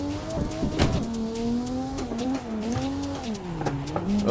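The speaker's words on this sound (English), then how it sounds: "So I'm going to clutch kick here." A sim racing car's engine revs in Assetto Corsa during a clutch kick for drifting, its tone climbing, dipping and surging again in a continuous wavering whine, close and steady throughout.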